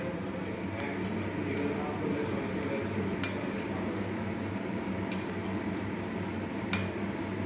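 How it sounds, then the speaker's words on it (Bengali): Sweet potato jalebi, pressed down in hot oil as it cooks, gives a steady, even sizzle, with occasional faint clicks and pops over the continuous frying hiss. "একটু চেপে চেপে ভাজি, এতে ফুসফুসে ভাবটা আসবে।"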